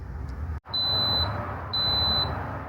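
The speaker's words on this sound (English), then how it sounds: "Just heard the beep, and now it is done cooking" A Dreo Chef Maker air fryer finishing its cooking cycle gives two clear, sustained high electronic beeps about a second apart, over a steady low appliance hum.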